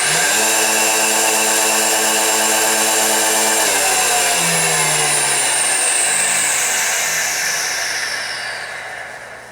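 A three-phase AC motor quickly spins up to a loud, steady whine, then runs down as its hum and tones drop in pitch and fade over several seconds, heard close with no talking.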